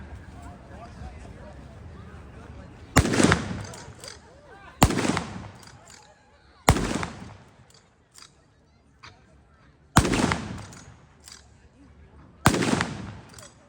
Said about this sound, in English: So as you can tell, it's a bit of a loud rifle.